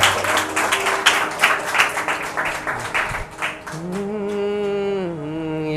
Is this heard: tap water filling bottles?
no